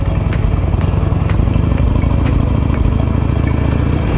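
A first-generation Harley-Davidson Nightster motorcycle engine runs loud and close while riding, a throbbing, rumbling drone, steady throughout and no voices.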